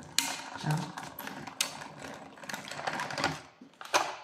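A small die-cutting machine runs close by while cutting craft shapes, giving an irregular mechanical clatter with ratcheting clicks and a few sharp knocks over about four seconds.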